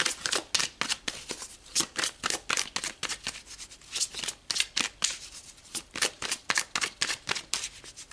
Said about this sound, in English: So let's pull some more of these cards and see what else comes out.